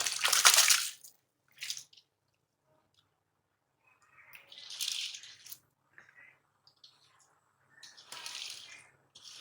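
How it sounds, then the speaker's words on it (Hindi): Rice grains pour into water in a pot, with a few separate splashy, rattling bursts between quiet pauses. "इसी के साथ ही मैं अब चावल डालती हूँ।"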